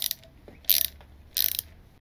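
A ratchet wrench clicks in short, close bursts while removing the timing guide bolts on a GM Ecotec engine, with three quick runs of rapid pawl clicks separated by brief pauses.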